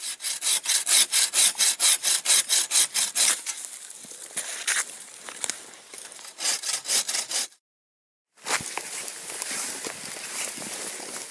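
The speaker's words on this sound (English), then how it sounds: "Lots of firewood to cut up if I ever want to, do an overnighter." A hand saw cuts firewood for a wood stove at a wilderness hot tent camp, making fast rhythmic rasping strokes that slow to uneven pulls. A brief silent gap comes before the sawing resumes, close and loud.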